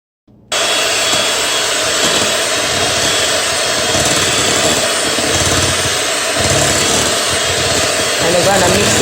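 An electric mixer creams room-temperature butter and sugar for chocolate chip cookie dough, whirring loudly and continuously up close after an abrupt start, with a slight rattling texture throughout.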